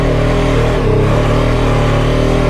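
A BMW F 450 GS motorcycle riding through sand, its mid-pitched engine droning steadily and loudly with a slight rise in revs partway through, close and continuous with no voices.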